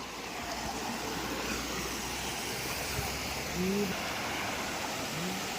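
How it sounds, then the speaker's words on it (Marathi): A small waterfall near Harihar fort gives off a steady, broad rushing hiss of falling water, even and continuous with a brief faint tonal chirp over it. "आता हा वलांडून वॉटरफॉल छोटासा एक धबधबा आहे"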